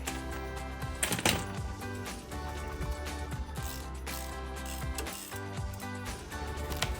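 A wrench ratchets against a shock nut on a 2009-2018 RAM 1500 to break it loose, producing quick, close metallic clicking in short bursts with a few louder clanks, and no talking.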